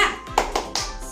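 A class claps a rhythmic 'tepuk semangat' spirit clap: a quick run of three sharp, close hand claps in even rhythm, with faint background noise.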